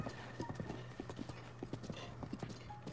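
A horse gallops in Breath of the Wild, its hooves beating a quick, rhythmic clip-clop that stays steady and fairly quiet, with no one talking over it.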